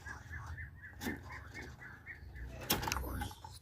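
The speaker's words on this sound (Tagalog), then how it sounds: "Ito mga kalapatids." Soft, rhythmic cooing from a flock of hungry pigeons waiting to be fed, repeating in close low warbles with a few sharper rustles and knocks around them.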